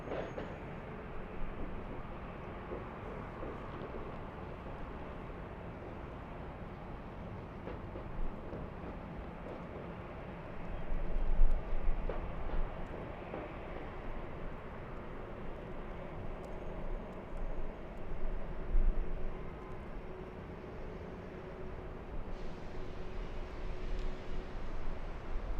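A jet airliner rolls for takeoff on runway 24 left, a steady broad roar that swells in the middle and again near the end, heard from a distance with no talk.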